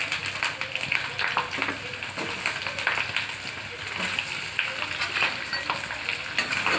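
Paneer sautés in a pan with a steady crackling sizzle, broken by frequent scraping and clinking as a utensil stirs it, close and continuous throughout.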